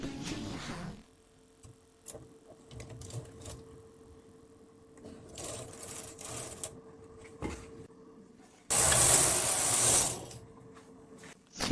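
A Silver Reed SK280 knitting machine knits a plain row. Faint mechanical clicks and rattles lead into a loud, steady rushing swish as the carriage sweeps across the bed, then it stops abruptly. No one speaks.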